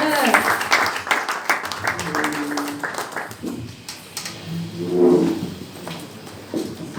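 A church congregation breaks into applause, a dense patter of clapping close by, mixed with voices and a brief sung or shouted acclamation that rises midway, then tapering into scattered claps.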